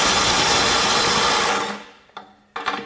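A DeWalt cordless impact wrench from the DCKTS600M2 combo kit runs in a loud, dense, close-up whir while breaking a nut free, then winds down, followed by a couple of short trigger bursts.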